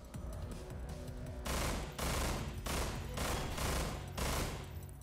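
Rapid gunfire from the video game Estranged: a sustained burst of shots rattles on loud and close, then gives way to heavier, evenly spaced bangs roughly every half second, with no one talking.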